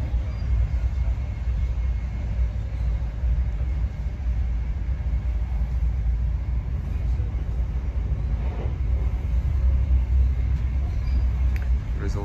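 A Scotrail Inter7City HST train runs along, heard from inside a first class carriage as a steady low rumble and rolling drone that continues throughout, with faint talk in the background.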